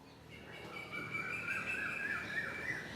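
Birds sing and chirp in the open grounds of Gangaramaya temple in Colombo, a continuous bright trilling chorus that grows fuller midway over a soft ambient background.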